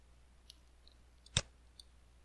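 A single sharp computer mouse click in PCB design software, quiet and close, with a couple of fainter ticks around it in a near-silent room.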